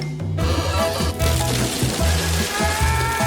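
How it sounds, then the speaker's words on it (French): Skittles candies pour down like rain in a dense, continuous pattering that runs throughout, with steady low tones underneath. "Oh, la pluie des Skittles."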